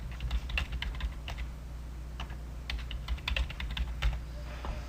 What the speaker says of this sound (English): it wants me to type in a password